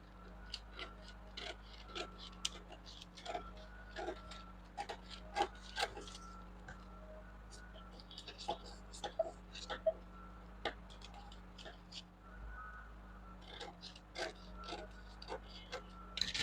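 Scissors snipping through a tulle dress pattern, quiet irregular cuts and light paper-and-fabric rustles close by, over a low steady hum.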